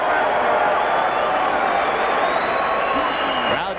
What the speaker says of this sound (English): Crowd cheers for both fighters as the action heats up